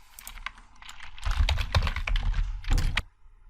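Quick keystrokes tap on a computer keyboard while code is typed into a Jupyter Notebook, a burst of close, crisp clicks that grows busier in the middle and stops abruptly.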